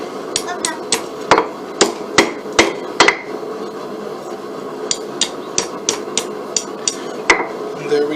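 A blacksmith lightly taps hot metal on an anvil head with a hammer, giving a steady run of sharp, ringing metallic strikes, often in quick pairs, close and clear over a low background.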